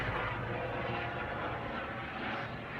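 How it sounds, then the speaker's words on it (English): Steady rotor and engine roar of a helicopter passing overhead, a sustained broadband drone that holds fairly even throughout with no voices. "Ooh, helicopter."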